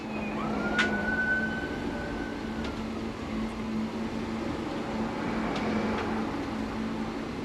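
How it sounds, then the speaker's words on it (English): An ambulance siren rises and falls over a steady traffic rumble as it passes, heard from a moderate distance. "Oh, there's the ambulance."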